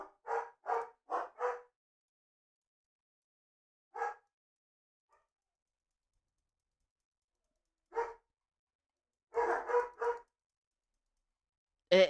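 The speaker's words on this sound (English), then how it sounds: "I can't even complain about the dogs because it's not like we trained them." Dogs bark in short bursts of two to four yaps separated by long silent gaps, fairly close but not loud, with a final abrupt burst at the end; no one talks.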